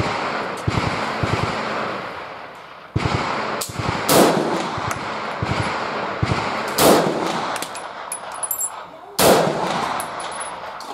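A VPO-209L rifle fires several sharp shots at a steel gong target about 200 meters away. The loud reports are irregularly spaced over steady background noise, and faint metallic ringing follows some of the hits.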